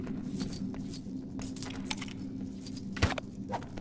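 Key pickup in the LEGO Lord of the Rings video game: quiet metallic jingling chimes and clinks scattered over a low background hum, with one brighter clink near the end.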